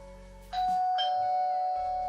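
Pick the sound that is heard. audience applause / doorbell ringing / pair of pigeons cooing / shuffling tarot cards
doorbell ringing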